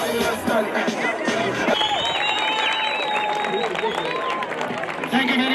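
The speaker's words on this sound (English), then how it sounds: "let's give them a big round of applause." Loud, dense applause from a crowd at a stage show, with cheering and whoops rising over it. It runs steadily through the whole stretch, with voices mixed in.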